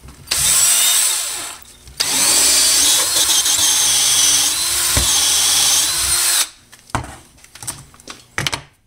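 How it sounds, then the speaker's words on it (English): Power tool grinding through the end of a deer antler pen blank clamped in a vise, a loud, sustained buzzing cut that pauses briefly, runs for several seconds, then stops into scattered knocks and handling clatter. "Man, that antler is not really easy to trim."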